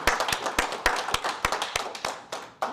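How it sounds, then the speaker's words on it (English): Applause at a radio club meeting: a small group clapping in quick, steady, close-up bursts that fade briefly and then pick up again. "A round of applause for Harry Clancer"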